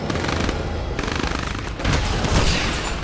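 Rapid bursts of machine-gun fire and dull booms from a Command and Conquer 3 Tiberium Wars battle, dense and continuous throughout with no talk.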